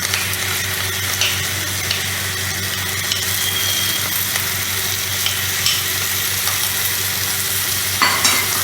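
Ground masala being stirred into frying bitter gourd curry (theeyal), a loud, dense, continuous sizzle up close with occasional soft scraping stirs and a clack near the end.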